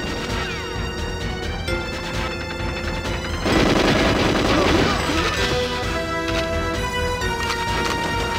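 Enemy gunfire rattles through the Depot level of GoldenEye 007, with sustained machine-gun bursts and sharp impacts over game music and effects, swelling into a louder, denser barrage midway before easing back.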